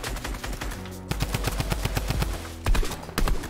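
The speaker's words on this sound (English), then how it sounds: "Okay, quick rapid fire." Rapid automatic gunfire in the Fortnite video game, loud and close, with dense bursts of shots rattling off in quick succession and a brief pause before the firing resumes.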